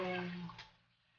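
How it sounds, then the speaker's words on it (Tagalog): Water pours from a tap into a cooking pot holding tulingan (bullet tuna) fish, a bright gushing splash that runs for about half a second, then trails off and stops. "Lagyan na natin siya ng tubig."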